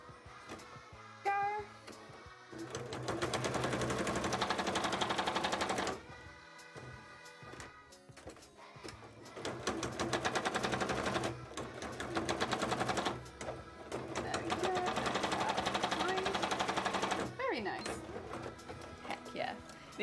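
An embroidery machine stitches a cosplay contest piece, its rapid needle chatter running in long bursts separated by brief pauses and clicks, close by with a faint voice now and then.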